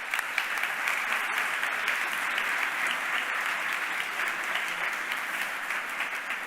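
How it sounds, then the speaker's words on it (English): Applause from a large audience at a university hackathon closing ceremony, steady dense clapping that holds at an even level from start to finish. "Big round of applause, everyone."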